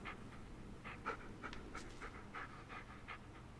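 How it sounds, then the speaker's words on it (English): A dog pants in short, rapid, breathy bursts in the Blair Witch video game, soft and fairly close, with a steady rhythm over a quiet background and no talking. "Your dog's here somewhere, bruv. I can hear him."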